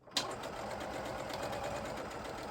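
A sewing machine runs steadily while stitching a pocket seam, starting with a sharp click and then keeping a continuous, even mechanical whir close by, with no talk.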